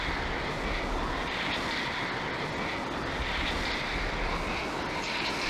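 A MiG-21 jet engine in the Falcon 4 Allied Force flight simulator drones steadily before takeoff, a loud continuous roar with an even hiss and no breaks.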